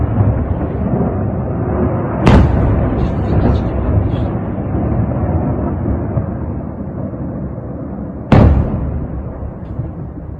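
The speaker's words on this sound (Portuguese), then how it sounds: "Isso aqui é o barulho dos mísseis chegando lá em Jankoy" Two sharp, heavy blasts of incoming missiles exploding about six seconds apart at an air base in Dzhankoy, Crimea, cutting through a constant rumbling roar, each a sudden broadband crack fading quickly.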